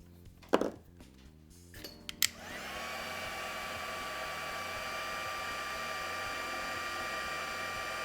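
A handheld embossing heat tool switches on after a few taps and knocks, then blows hot air in a steady, even whoosh that holds for several seconds.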